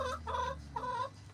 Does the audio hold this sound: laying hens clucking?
yes